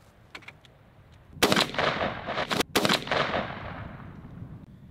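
Shotgun fires an Apex LT-20 2¾-inch 9-shot TSS turkey load through a Patternmaster choke at 30 yards outdoors: a loud, sharp blast with a rolling echo and several quick reports and thumps after it.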